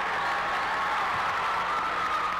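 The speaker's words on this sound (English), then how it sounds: "And Allen Central's crowd comes to their feet." A high school basketball crowd in a 1993 gym, Allen Central against South Floyd, roars steadily after three straight three-pointers, a dense sustained wash of cheering and clapping.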